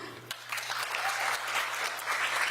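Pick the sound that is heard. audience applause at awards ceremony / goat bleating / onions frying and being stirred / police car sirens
audience applause at awards ceremony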